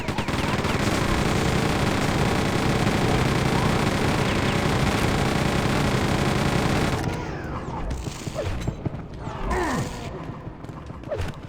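Rapid machine-gun fire in Quake 2, a dense unbroken rattle for about seven seconds that cuts off abruptly, leaving sparse mechanical clicks, thuds and game effects afterward.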